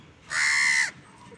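A myna gives one loud, harsh, drawn-out call lasting about half a second, close by, against a quiet background.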